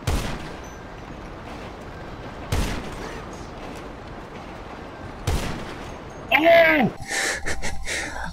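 Video game gunshots: a few sharp, isolated single shots spaced several seconds apart, followed by a louder burst of effects near the end, with players talking over the action.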